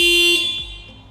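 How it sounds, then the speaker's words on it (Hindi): A Yamaha Fascino scooter's horn sounds when triggered from a Bluetooth phone app, one short, loud, close electric beep that cuts off and leaves a fading ringing tail. "जो इसका हॉर्न था वो भी बजा था"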